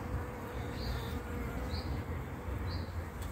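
Honeybees at an opened hive produce a steady, dense buzz close by, holding even throughout with a few louder individual bees passing near, and no voices.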